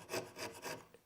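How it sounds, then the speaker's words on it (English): A dull chisel scrapes across hardwood end grain in three or four slow, rasping strokes, close and fairly quiet, each a broad scratchy rub with nothing else heard. "when you cut across it with a dull chisel"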